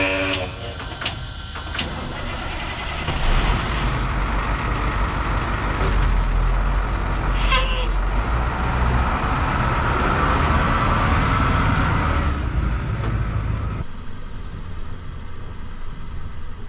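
A Ford C-series fire truck drives along with a steady, loud engine and road rumble throughout, a few clanks and knocks early on, the noise easing near the end.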